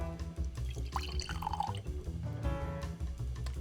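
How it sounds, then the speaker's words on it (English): Sake pours from a bottle into a glass with gurgling, dripping liquid sounds, including a rising glugging tone partway through, all close up and fairly quiet. "let's pour this baby out"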